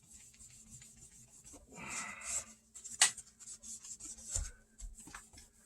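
A cloth rubbed over a 1972 Medallion Firebird V guitar to wipe off oil residue, giving soft, close rasping strokes in short bursts with pauses between, quiet overall.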